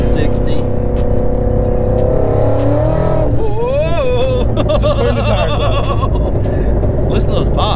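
Ford Mustang GT350 with headers, high-flow cats and factory exhaust drives at speed, a steady loud engine drone and exhaust note with sharp pops and crackles as it rolls off, while people talk over it.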